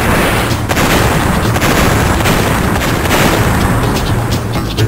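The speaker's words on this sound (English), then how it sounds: "That is a lot of explosions" Loud, dense barrage of booming explosions in Crash Bandicoot 2 rumbling continuously without pause, a relentless wall of blasts.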